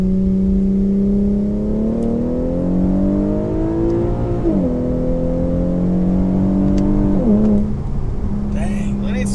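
Infiniti Q50 with a 7-speed automatic revving and pulling hard, engine note climbing steadily, briefly dropping at a shift, then rising again, loud and close from inside the cabin.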